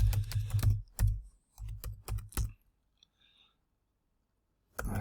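A computer keyboard is tapped in two quick bursts while a password is entered, with crisp close keystroke clicks, a pause of near silence, then a few more taps at the end.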